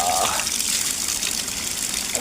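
Cold water gushing from a spout at a roadside tap near a temple, a close, steady splashing stream.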